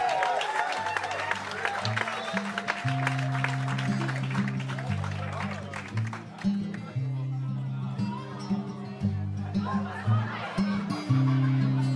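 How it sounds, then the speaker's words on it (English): Wedding guests applaud the newly married Mr. and Mrs. Gibson in a long, steady burst of clapping and cheering, with laughter mixed in and live music playing underneath throughout. "have a massive, massive round of applause for the new Mr. and Mrs. Gibson!"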